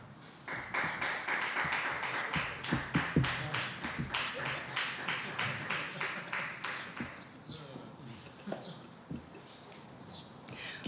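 Audience at a fundraising event clapping for the board of directors in steady, evenly spaced claps that fade and break up after about seven seconds into scattered taps.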